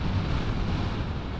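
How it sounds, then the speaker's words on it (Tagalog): Strong wind buffets the microphone during a motorcycle ride near Burgos on a coastal road in the northern Philippines, a steady loud low roar with no letup throughout. "Grabe yung hangin, no?"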